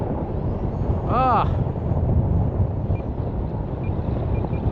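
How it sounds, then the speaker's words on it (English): Strong gusting wind roars across a flying field during a remote-control plane flight, a heavy, steady rumble buffeting the microphone up close, with a man briefly exclaiming over it. "Man, all of a sudden the wind just kicked up big time."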